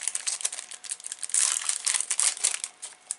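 Crinkly vintage paper stickers are handled and rustled during a shabby chic craft session, giving a steady run of close, dry crackles and crinkles with no talking.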